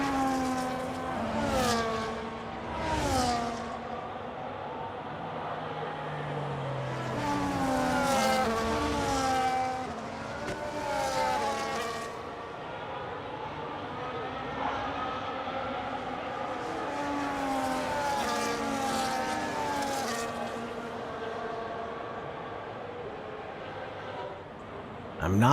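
Race cars in the F1 25 video game at the Miami GP whine past, their engine tones sweeping up and down through gear changes, with commentators talking over the continuous motor drone.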